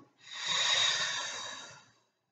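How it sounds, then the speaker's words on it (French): A long, deep breath out through the nose during a stretching session, one steady airy exhale of about two seconds, close and fairly loud, with no talking over it. "on reste encore une respiration. Expire."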